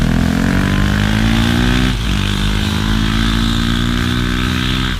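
A KTM Duke 250 motorcycle rides at sustained high revs, its engine buzzing loudly and close with a brief dip around a shift before climbing again, alone without talk.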